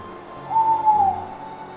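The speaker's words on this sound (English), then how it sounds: "Was that an owl?" An owl hoots in a long wavering call, close and clear against a quiet underground setting, with no talking.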